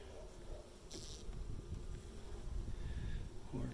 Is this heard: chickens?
no